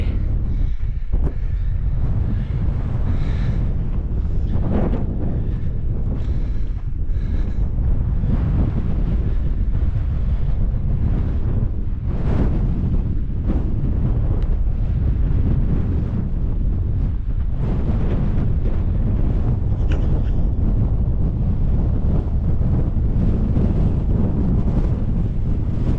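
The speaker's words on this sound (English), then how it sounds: "This wind's really picking up." Strong wind gusts at a lakeside campsite at Milarrochy Bay on Loch Lomond, a loud, constant roar buffeting the microphone for the whole stretch, with no talking heard over it.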